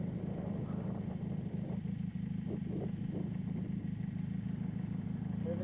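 A 2000 Honda Magna 750 motorcycle rides in first gear, its engine giving a close, continuous mid-pitched drone with a slightly uneven throb and no talking.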